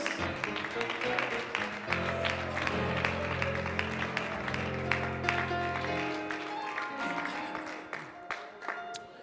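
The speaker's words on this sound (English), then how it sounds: "Clap your hands and give him great praise." A church congregation at a revival service claps in praise, a dense, steady patter of many hands that carries over sustained organ or keyboard chords, with scattered voices rising within the crowd.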